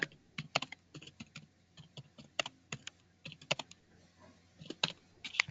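Code being typed on a computer keyboard: close, crisp key clicks in irregular quick bursts with short pauses, fairly quiet and without speech.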